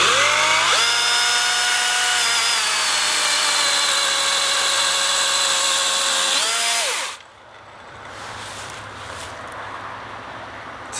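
A Dewalt chainsaw runs at high revs cutting through a tree branch for about seven seconds, a loud, steady whine, then drops off sharply to a low idle rumble.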